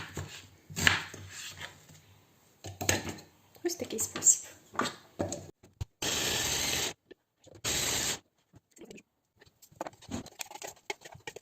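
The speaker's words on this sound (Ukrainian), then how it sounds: "і подрібню блендером." Two short, steady bursts of a blender chopping onion, whirring about a second each, set between stretches of close conversation and kitchen clatter.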